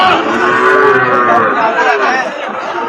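A Pakistani Sahiwal bull calf at the Aftabganj cattle market moos loudly in one long, drawn-out call close by, with crowd chatter in the background.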